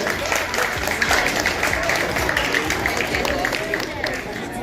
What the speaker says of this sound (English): Let's give him a round of applause this morning.